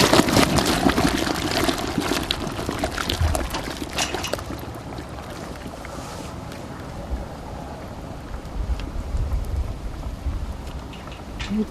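A hot stone lowered into beer wort for stein brewing sets off an instant, loud roiling boil, a dense bubbling and hissing rush that is strongest at first and then settles to a steady simmering crackle.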